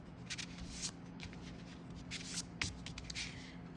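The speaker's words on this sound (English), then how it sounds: "And I'm going to erase them there." Pencil eraser rubbing across paper while erasing lines on a drawing of a green club chair, a steady soft scrubbing in repeated strokes, close and continuous.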